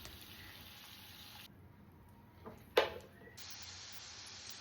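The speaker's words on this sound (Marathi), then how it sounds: "अशा प्रकारे फ्राय करून घ्यायचे आहेत." Oil sizzles faintly and steadily while ingredients fry for matar paneer, with one sharp clatter near the middle before the quiet frying hiss resumes.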